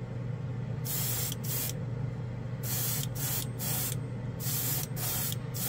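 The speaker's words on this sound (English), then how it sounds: "looks like 25 PSI. It's really pushing the paint out fast" A paint spray gun at 25 PSI lays down color shift paint in a series of close, hissing bursts of varying length, separated by short pauses, over a low steady hum of compressor or room noise.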